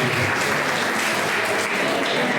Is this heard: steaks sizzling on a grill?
no